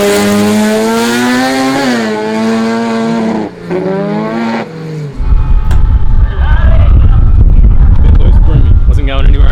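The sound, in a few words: Mazda rotary race car engine accelerating at raceway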